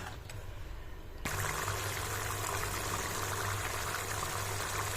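Egg masala gravy boils in a pan. A soft, steady bubbling hiss jumps louder after about a second and then holds evenly, close by with no talk.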